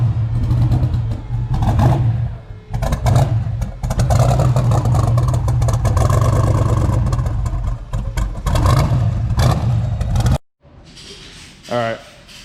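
Twin-turbo Gen 4 5.3 V8 running a Terminator X in a 1963 Ford Falcon, a loud steady engine drone with revving that holds for about ten seconds, cuts off abruptly, then gives way to quieter sounds.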